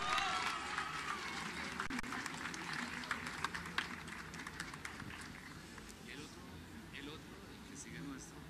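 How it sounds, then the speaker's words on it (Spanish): Applause for a girl receiving prizes at a Telefónica challenge award ceremony, a continuous crowd clapping heard fairly faint and distant, with voices and scattered sharper claps mixed in throughout. "un fuerte aplauso para la niña"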